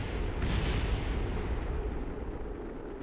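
Rocket parts blowing apart in Kerbal Space Program produce a loud, sustained explosive rumble that swells in with a crackling onset and rolls on steadily without fading away.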